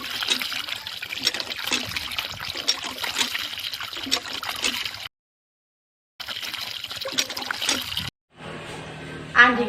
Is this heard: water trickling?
yes